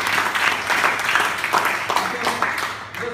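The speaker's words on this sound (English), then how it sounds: "Give a round of applause to her." Applause at a Toastmasters club meeting, a moderately loud patter of clapping from a small group with voices mixed in, continuing steadily before tapering off at the close.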